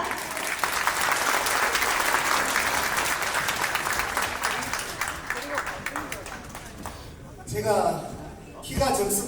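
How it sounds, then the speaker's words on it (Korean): Sustained audience applause at a grassroots party members' convention in Anyang, loud and dense for several seconds, then fading as a speaker begins talking at the podium. "여러분 힘찬 박수 부탁드립니다."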